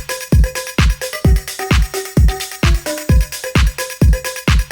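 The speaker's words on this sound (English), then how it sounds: "So when you put it all together, the percussion now sounds like this." Rally house percussion loop with a punchy kick on a steady four-on-the-floor pulse, layered with tonal percussion hits and crisp upper clicks, loud and alone.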